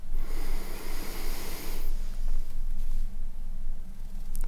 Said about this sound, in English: Take a real deep breath.